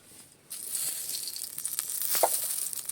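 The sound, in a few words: mustard oil sizzling in a kadai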